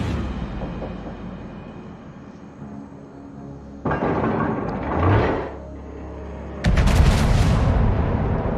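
Battleship gunfire in a naval game with a Grosser Kurfürst battleship: several loud booming salvos arriving in abrupt bursts, with a heavy rumbling blast that builds toward the end.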